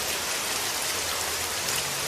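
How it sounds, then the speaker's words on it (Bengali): Rain falls in a steady, dense hiss of drops on surfaces, close and continuous throughout the short stretch, with no voices. "কি বৃষ্টি শুরু হলো বল দেখি"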